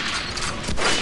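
Gunfire in the shooter video game Metro: Last Light, a dense burst of loud, close shots packed into about a second, with mechanical weapon clatter and no talking.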